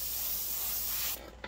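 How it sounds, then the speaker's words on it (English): An airbrush gun sprays blue paint in a steady, close hiss of air for just over a second, then cuts off, leaving a faint trailing sound. "So we're just going to spray through the air gun a little bit."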